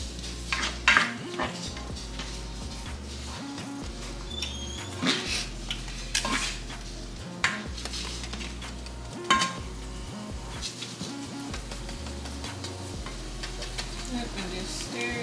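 Taco filling being stirred with seasoning in a pan, the spoon scraping and clattering against the metal in irregular bursts over a soft steady sizzle, close by, with a little quiet talk.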